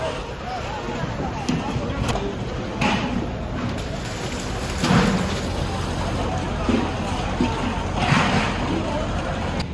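A steady low boat engine hum at a fishing harbour runs beneath water sloshing and a few nearby voices speaking intermittently.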